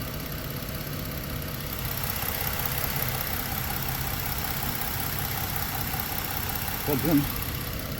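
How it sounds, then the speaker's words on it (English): A Ford car engine idles steadily during a check-engine-light diagnosis, a low continuous hum close by with a brief clunk near the end and a short spoken remark. "I hear a slight change in idle."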